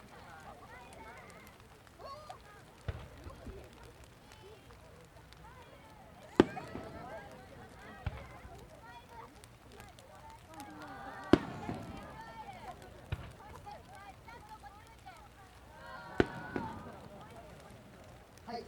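Smiley-face shaped firework shells at a fireworks expo in Osaka's Nishikinohama, three sharp launch thumps and bursts spaced several seconds apart, with a commentator talking throughout.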